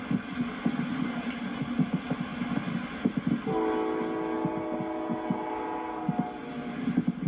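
A train ride to Mississippi: steady rail rumble with clicking wheels, and a sustained train horn sounding midway, close and loud with no talk.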